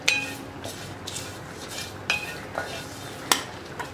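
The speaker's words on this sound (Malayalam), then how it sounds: "ഇതെല്ലാം ചേർത്ത് നന്നായിട്ട് ഇളക്കുക." Koottu curry with ground coconut paste stirred in a pot, a few spoon scrapes and clinks against the vessel over a soft background, no talk.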